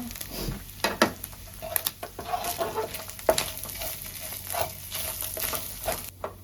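Garlic and onion sautéing in a little oil for carbonara, a close, steady sizzle with crackling bursts and occasional scraping stirs throughout.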